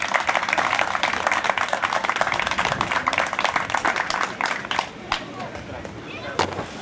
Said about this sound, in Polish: Proszę o brawa dla nich.